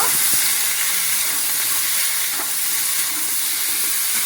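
Potatoes fry in a pan for a Bengali vegetarian fig curry, giving a loud, steady hiss of sizzling oil that holds even throughout, with a few faint clinks from stirring beneath it.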